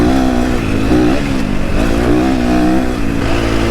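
A Husqvarna FC250 dirt bike engine revs steadily during a ride, a loud close buzzing drone that rises and falls with throttle changes, running without a break.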